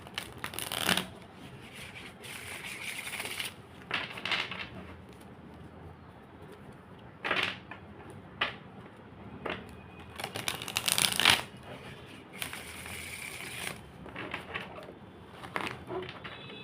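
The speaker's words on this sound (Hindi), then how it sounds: "जब तक मैं शफलिंग कर रही हूँ" Tarot cards are shuffled in repeated soft riffling bursts, close and quiet, with pauses between handfuls and no talking.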